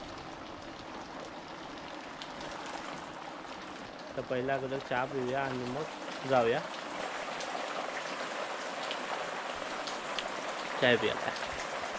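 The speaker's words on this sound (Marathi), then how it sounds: "आता परत चालू झाला आहे पाऊस बघा." Steady rain pours outdoors in rural Konkan, a continuous hiss of drops filling the background while people talk over it near the mic.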